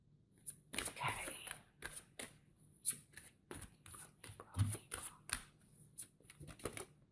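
Oracle cards being shuffled by hand, a series of quick papery riffles and flutters in irregular bursts, close and clear, with a voice talking briefly in between.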